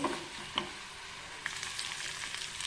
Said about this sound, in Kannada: ನೋಡಿ ಈರುಳ್ಳಿ ಮತ್ತು ಟೊಮೊಟೊ ಚೆನ್ನಾಗಿ ಬಾಡಿದೆ